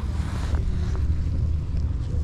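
Wind gusting over a small boat while fishing for horse mackerel on the Istanbul Bosphorus near Beykoz, a steady low buffeting roar with no talk.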